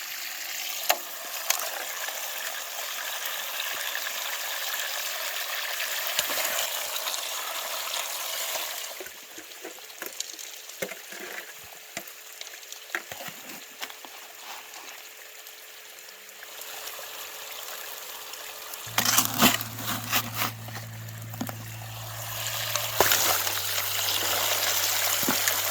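A pump recirculates water from a shallow pond through a small gold-prospecting sluice box, giving a steady close trickle and flow of water, with a low motor hum joining in near the end.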